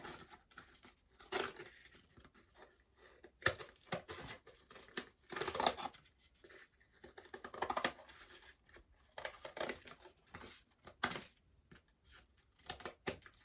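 Scissors snip through mesh along a traced line, giving repeated crisp tearing and crunching cuts in irregular bursts, close up and fairly quiet with no talking.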